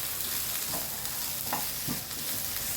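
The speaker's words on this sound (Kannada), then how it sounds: "2 ಬ್ಯಾಡಿಗೆ ಮೆಣಸಿನ್ಕಾಯಿನ ಹಾಕಿ ಹುರ್ಕೋಬೇಕು" Onion, garlic and Byadgi chillies fry in a pan with a steady close sizzle, broken by a few soft stirring scrapes.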